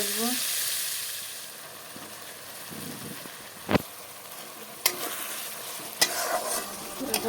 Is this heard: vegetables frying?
yes